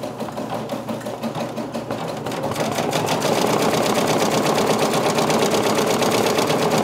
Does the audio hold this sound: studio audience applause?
no